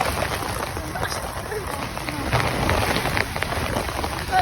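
Heavy storm rain pours steadily onto surfaces outdoors, a dense, continuous hiss with scattered drops, loud and close, while people talk underneath.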